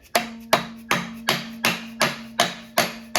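A dead blow rubber mallet taps a timing set onto an LM7 5.3 L Chevy V8 engine: nine evenly spaced, sharp knocks with a ringing tone, close and loud, roughly three per second.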